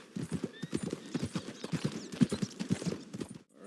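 Horse hooves clip-clopping in the Red Dead Redemption 2 video game, a steady run of close, loud hoofbeats lasting a few seconds, with a faint whinny-like tone near the start.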